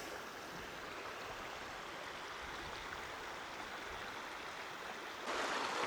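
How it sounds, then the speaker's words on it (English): A river in New Zealand flows past a sandy campsite, giving a steady, full rushing wash of water that carries on alone and swells louder near the end. "So here's the river."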